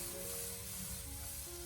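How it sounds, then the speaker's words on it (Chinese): Green and red chili peppers stir-frying in a hot wok, a steady close hiss of sizzling oil throughout with faint stirring underneath. "青红辣椒在翻炒的时候不需要翻炒过久"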